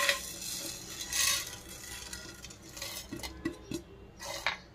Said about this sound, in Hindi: अब सारी चीज़ों को हमें भूनना है, ड्राई रोस्ट करना है।